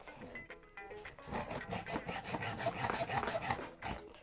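A bolt on a roller skate plate is cut down with a hand tool, producing a rapid run of raspy back-and-forth strokes, close and fairly quiet, with a brief pause before the rhythm picks up.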